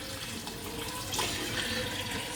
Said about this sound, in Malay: masukkan air sebanyak ni. Kalau lebih pun tak apa.